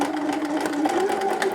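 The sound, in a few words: sewing machine stitching a child's pajama seam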